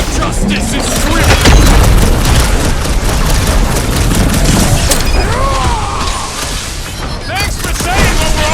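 Gunfire and booms from combat in the Guardians of the Galaxy video game, with dense rapid shots, crashes and whooshing effects filling the whole stretch loudly, while voiced character dialogue runs over the action.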